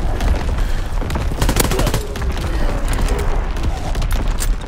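Call of Duty: WWII battle with an artillery battery firing amid dense gunfire, a loud continuous barrage of booms and rapid shots with faint voices beneath.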